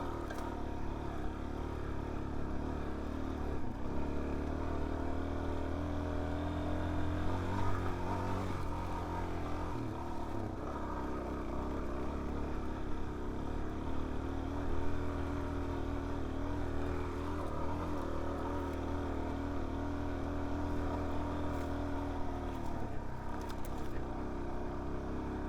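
A Suzuki DRZ 400S dirt bike runs along a hilly trail, its single-cylinder engine droning continuously with small shifts in pitch and a constant rumble of wind and ride noise, with no voices.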